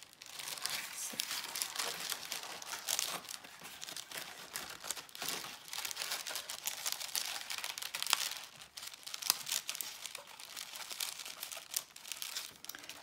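Sheets of paper being folded and creased while making a paper peony flower, a steady close crinkling and rustling with soft crunches throughout, with no talk.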